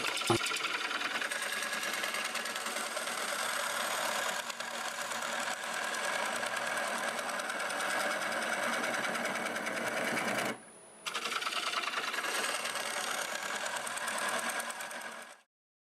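A lathe runs steadily while a gouge cuts a piece of hazelnut wood, giving a continuous loud whirring and scraping drone for about fifteen seconds, with a brief drop near the end before the cut resumes.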